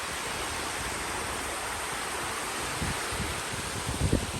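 Water from a waterfall and stream at an old quarry in Ellis Brook Valley flows steadily, a constant broadband rush with a few faint knocks and rustles near the end and no talk.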